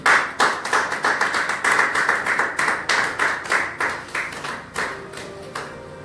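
An audience claps and cheers at a French-language church teaching event, with dense, steady applause that peaks early and thins toward the end, close and lively with no speech over it.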